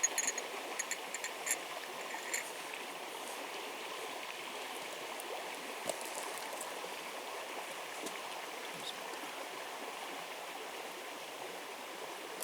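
Steady rushing water of a creek in the Temagami wilderness flowing over rocks, continuous and close, with no other sounds standing out.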